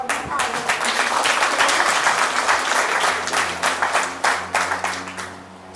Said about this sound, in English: Can we get a round of applause for all the hard work?